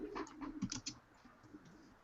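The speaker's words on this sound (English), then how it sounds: "Sorry if you can hear me typing." Soft, quick clicking of typing on a computer keyboard, faint and close, a short burst of keystrokes that thins out into quiet background hiss.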